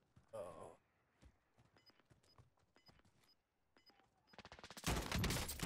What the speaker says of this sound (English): You have shots crossing that entire area.